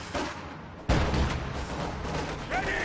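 A T70 light tank in Company of Heroes 2 fires on infantry with a single heavy, booming gun blast, followed by a continuous rumble of battlefield noise and distant gunfire.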